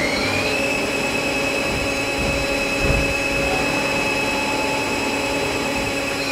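A Mazak CNC lathe cuts an OD thread on its single finish pass, a steady loud machine whine and hum with a high tonal component running throughout, no talking.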